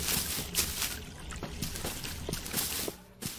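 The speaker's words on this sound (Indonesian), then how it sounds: "ini suara airnya tuh super duper berisik sekali" In the Hello Neighbor mobile horror game, running water makes a soft, steady hiss and splash, faint and continuous, broken by a few small clicks.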